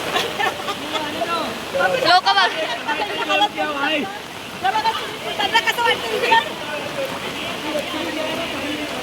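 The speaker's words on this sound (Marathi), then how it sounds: "पाऊस एवढा पडत आहे" Heavy rain pours over a flooded street in Nalasopara, a continuous rushing wash of water under lively talking and nearby voices throughout.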